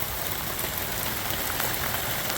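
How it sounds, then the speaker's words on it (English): Steady rain patters on a car coated in Turtle Wax ceramic/graphene paste wax, a dense continuous hiss of drops striking the waxed paint, even and close throughout. "it's raining pretty good now"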